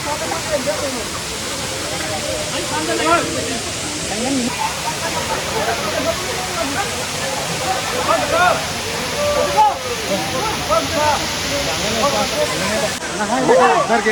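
Lihonjar waterfall in Karbi Anglong roars as a steady, loud broadband rush of falling water, with people talking over it throughout.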